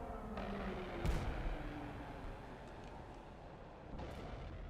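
Bombs exploding in a tank battle video game featuring the M1A1: a sharp close blast followed by rumbling, with another fainter explosion a few seconds later over steady engine drone.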